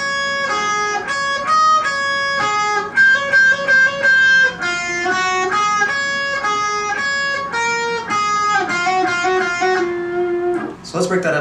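An electric guitar solo from the bridge of a song, played as a clean, singing melodic line of sustained notes and short runs, with a brief strum at the end.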